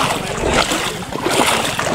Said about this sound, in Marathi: मी पहा कसं चालतोय पाण्यात.